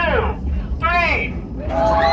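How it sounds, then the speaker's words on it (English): A group of passengers on a steam train ride at the Hesston Steam Museum scream together as loud as they can, a burst of loud, overlapping voices rising and falling close by over steady rumbling train noise. "we scream as loud as we can"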